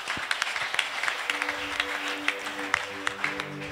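A French-speaking church congregation claps together to acclaim the Lord before the offering. The applause is moderate and rhythmic, with steady hand claps, and soft instrumental tones play underneath.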